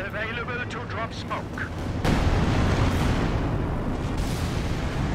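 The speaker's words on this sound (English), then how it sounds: "Juicy barrage in return. So it's targeting the middle here." An artillery barrage strikes during a Company of Heroes 2 match, sustained heavy rumbling blasts that swell and continue loud, with a commentator talking over the start.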